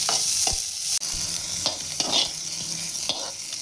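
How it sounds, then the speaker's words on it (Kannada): Chopped coriander leaves fry and are stirred in a pan, a steady close sizzle broken by a few sharp utensil scrapes and clicks, with no voices. "ಇವಾಗ ಕೊತ್ತಂಬರಿ ಸೊಪ್ಪನ್ನ ಹಾಕ್ಕೊಳ್ಳೋಣ. ಇದನ್ನು 2 ನಿಮಿಷ ಇದನ್ನು ಸಹ ಫ್ರೈ ಮಾಡಿಕೊಂಡು ಗ್ಯಾಸ್ನ ಆಫ್ ಮಾಡ್ಕೊಳ್ಳಿ"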